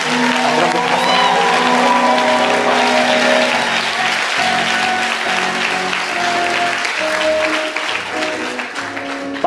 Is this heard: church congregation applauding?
yes